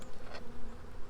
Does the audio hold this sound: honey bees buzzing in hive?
yes